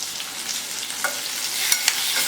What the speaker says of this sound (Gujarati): 2 મિનિટ સુધી તેલમાં જ ભીંડો સંતળાઈ જાય